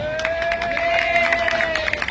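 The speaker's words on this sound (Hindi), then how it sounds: "तालियां भाई" A crowd at a Ramleela award ceremony in Peeragarhi claps and cheers briefly, a short burst of mixed applause and shouts with a sustained tone running underneath.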